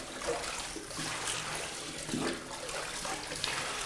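Water running from a tap after a long wait for supply, a steady hissing flow that is fairly faint, with no voices.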